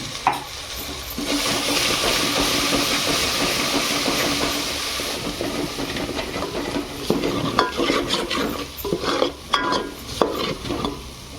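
A ground masala paste is sautéed in a pan with a little turmeric for mutton curry. It gives a loud, close, continuous sizzle, and in the later part stirring scrapes and clatters sound in bursts.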